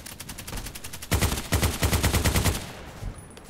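Unsilenced automatic gunfire from a shooter video game: a sparse string of shots, then loud, rapid bursts of closely spaced cracks that fire in quick rhythmic volleys, pausing briefly between them before a few final shots.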